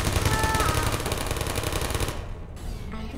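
Turret gunfire in the Portal video game, a rapid continuous machine-gun rattle for about two seconds, fairly close, then cutting off into quieter game ambience.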